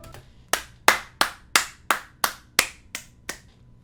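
Nine slow, evenly spaced hand claps in the video game Sifu ring out alone, sharp and fairly close, each with a short decay.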